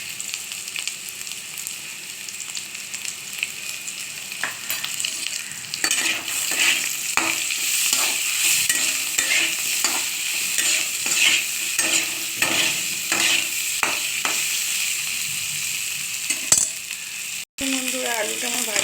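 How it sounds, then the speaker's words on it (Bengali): Potato pieces frying in oil with salt and turmeric, a steady sizzle broken by repeated scraping and clinking stirring strokes that become busier midway, with no talking. "তো ভাজার সময় একটু আমি এখানে নুন দিয়ে দিলাম পরিমাণ মতো। আলুটা ভাজা একটু হলুদ পরিমাণ,"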